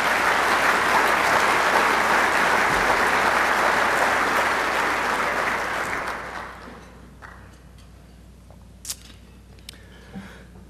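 A crowd at a State of the City address claps loudly and steadily for about six seconds. The applause then fades quickly, leaving a quiet room with a few scattered small noises.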